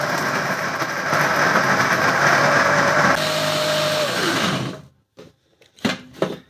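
Electric kitchen grinder running loud and steady on a spice paste, its motor whine shifting midway, then spinning down and stopping, followed by a few sharp clatters.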